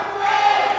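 At a Primal Pro Wrestling event, the crowd gives a brief, loud roar that swells and holds steady for under a second.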